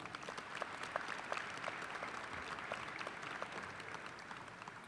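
Audience applauding at a Murray State University commencement ceremony in December 2016, a steady, moderately distant wash of many hands clapping that holds evenly for about five seconds.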